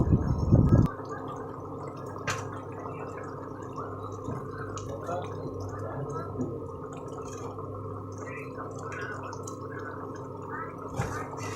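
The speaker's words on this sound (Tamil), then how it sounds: "நல்லா கொதிச்சிருச்சு எண்ணெய் தண்ணியாக வந்துருச்சு கொதிச்சு" A thick bitter gourd curry bubbles and blips steadily in a pot, close and continuous, after a brief louder clatter at the start.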